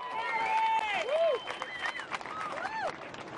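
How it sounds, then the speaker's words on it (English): Crowd applause for the finalists of the Burton Automotive Pro surf contest, a World Surf League QS 6000 event, with a steady wash of clapping plus whistles and cheers over it, and faint voices in the background. "One last round of applause for our finalists"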